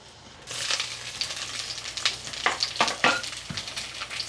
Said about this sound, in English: I'm adding in 2 tablespoons of olive oil. Okay, I'm starting with the onions first.